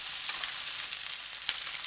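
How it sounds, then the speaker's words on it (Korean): Pork belly fries with garlic and onion in a pan, giving a steady bright sizzle with a few soft stirring clicks, close and continuous with no talking. "양파 넣고 양파와 마늘이 다 익을 때까지 볶아줍니다"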